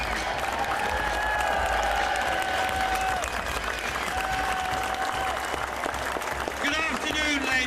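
A large crowd at a Leave rally outside Parliament breaks into sustained applause and cheering, dense clapping throughout with a few whistles and shouts near the end.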